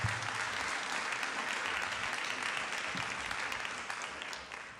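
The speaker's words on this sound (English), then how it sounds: "Let's give them another round of applause." Audience clapping at a city council meeting, a sustained round of applause from a crowd that fades slightly toward the end.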